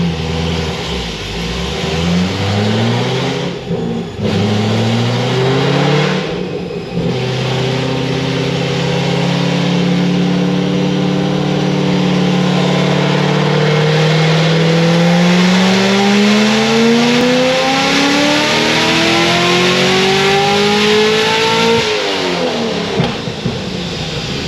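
Supercharged 1150 HP Chevrolet Corvette C6 ZR1 with stock bottom end and ported blower, loud and steady on a dyno pull, engine drone climbing in pitch through a long sustained run with blower whine over it.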